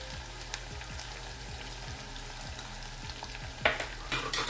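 Masala of chilli powder, cumin powder and salt cooking gently over low heat in a pan, a soft steady sizzle with faint stirring scrapes and a few brighter crackles near the end, with no talking.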